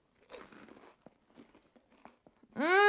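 Crisp bites and chewing into a slice of crunchy-crusted toast spread with homemade nut butter, a few separate crackly crunches close up, followed at the end by a voice.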